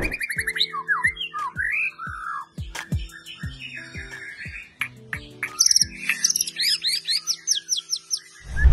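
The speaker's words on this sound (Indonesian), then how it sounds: "Ini adalah peternakan khusus murai dari ekor panjang." A long-tailed white-rumped shama (murai batu) at a breeding farm in Tabanan, Bali, sings loud, close, varied phrases of whistles, chirps and rapid trills, interspersed with sharp clicks and low repeated tones.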